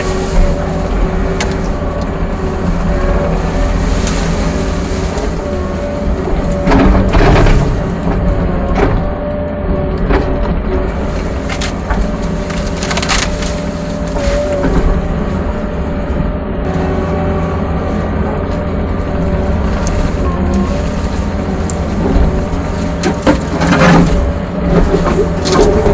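A tractor engine drones loudly and steadily as the machine pushes through branches near a muddy field, with occasional scraping and crackling of wood over the continuous motor rumble.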